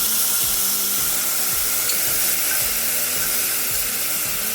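Ginger sizzling and frying hard in a very hot pan, a steady loud crackle running throughout, with occasional stirring scrapes underneath and no voices.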